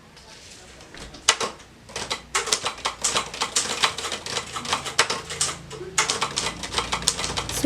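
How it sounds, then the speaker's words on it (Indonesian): A typewriter clatters through a sequence of rapid, irregular keystrokes with a few short pauses. The typing is close and clear, and faint voices can be heard in the background. "Sawiti Melik pun mengetik teks tersebut."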